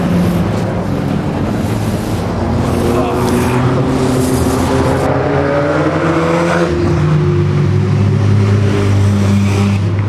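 A field of race cars roars around turn one of a dirt track, engines blending into a loud, dense drone with rising and falling revs, heavy wind buffeting throughout and commentary running over it.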